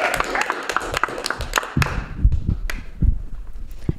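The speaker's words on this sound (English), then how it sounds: "Big round of applause for Chelsea Burns," Comedy-club audience applause as a stand-up comedian is introduced: a burst of scattered clapping that thins out and fades into sparse, separate claps and room noise.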